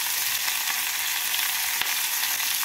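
Vegetables for a spinach curry fry in a pan with a dense, even sizzle and crackle, steady and close throughout, with one sharp pop partway through and no voices.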